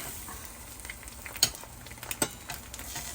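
An egg frying in a hot pan, a soft steady sizzle with a few sharp taps of a utensil against the pan.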